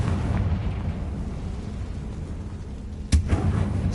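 A Confringo spell blast in the video game Hogwarts Legacy: a single sharp burst near the end, rising briefly above a steady low rumbling game ambience, with no talk.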